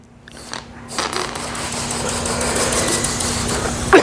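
A tubeless bike tyre, an M.2 Ridge Pro, is pumped up while sealant sprays out around it: a loud, steady rushing hiss builds after a brief start and ends with a sharp tick.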